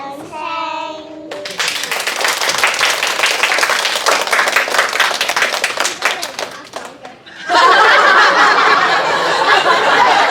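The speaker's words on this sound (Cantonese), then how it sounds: "可以俾多啲掌聲" Loud, dense clapping from an audience at a school performance showcase, sustained over several seconds and swelling stronger near the end, with a brief voice and some chuckles at the start.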